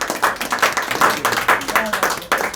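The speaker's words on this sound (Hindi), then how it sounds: "पहले सबसे पहले बी ग्रुप के लिए ताली बजा दीजिए" A group in a classroom clapping hands together, rapid irregular claps in a dense, fairly loud burst of applause, with some voices mixed in.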